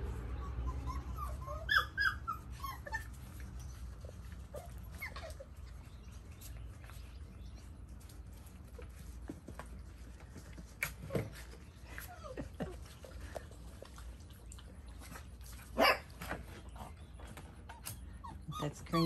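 Doodle puppies play nearby, letting out scattered whimpers, yips and short barks over a quiet background, with occasional sharp bursts and adult voices talking softly at times.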